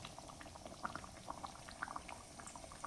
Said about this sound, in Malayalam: ഇതിൻ്റെ അകത്ത് കടുക് വറുക്കുമല്ല പച്ചവെളിച്ചെണ്ണയാണ് ഒഴിക്കുന്നത്.